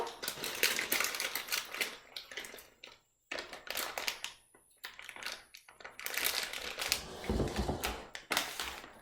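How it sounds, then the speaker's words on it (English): Pecans chopped with a knife on a cutting board for pumpkin muffins: rapid, crunchy close-up chopping in bursts, with short pauses between runs. "they're not chopped, so I'm going to have to chop them"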